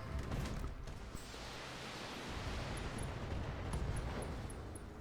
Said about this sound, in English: LRM explosion.